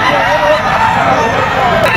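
A Red Kelso stag rooster, a young gamefowl at a pet market, crows loudly and close over a busy background of other birds and voices.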